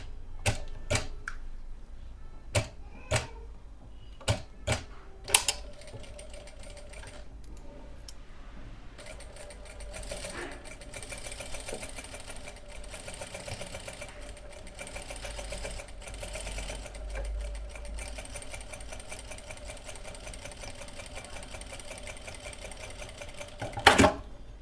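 A sewing machine stitching fabric gives a few sharp clicks and knocks, then settles into a long, steady mechanical whir at moderate volume, close by, with no talking.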